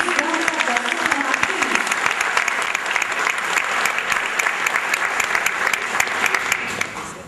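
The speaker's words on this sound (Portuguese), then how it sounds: "Mais uma vez, aplaudimos o doutor" An audience at an academic event gives steady, dense applause for a speaker, continuous clapping throughout with a few voices faintly underneath.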